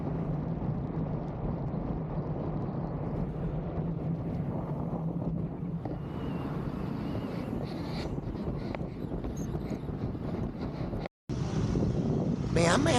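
Steady wind rushes across the microphone with a low, constant roar, joined by a faint engine hum; a brief dropout near the end.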